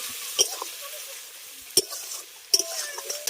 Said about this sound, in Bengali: এবার যে মাছের মাথাটা ভেজে রেখেছিলাম সেটাও ভালো করে মশলার সঙ্গে কষিয়ে নেব